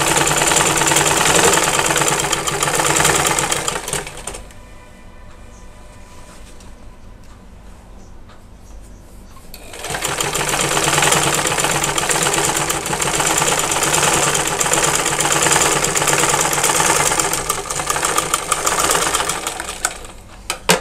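Sewing machine running steadily while stitching the side seam of a kameez, a loud mechanical rattle that pauses for several seconds in the middle before resuming at full pace.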